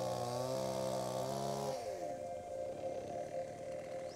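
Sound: chainsaw cutting through soft fossil lake rock

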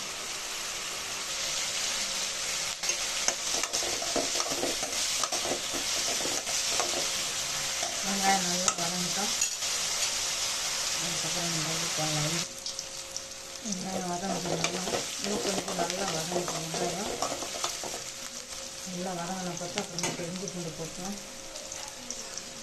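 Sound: onions sautéing and being stirred in a pan

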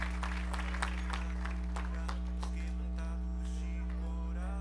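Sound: congregation applauding in church

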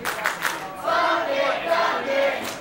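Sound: wrestling crowd chanting against Kevin Ducqets

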